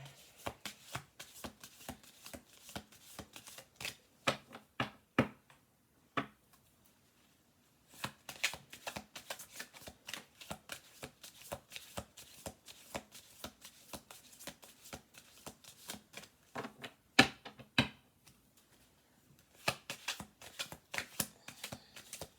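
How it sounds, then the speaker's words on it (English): Tarot cards shuffled by hand in a quiet room: long runs of dense, crisp riffling and flicking, broken by a brief pause near the middle and resuming with sharp slaps as cards drop into place. "Shuffle through."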